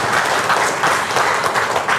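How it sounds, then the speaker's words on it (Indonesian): An audience at a seminar or talk applauds steadily, a dense, even clapping that fills the whole clip without pause. "Tepuk tangan buat kita semua sekalian ya."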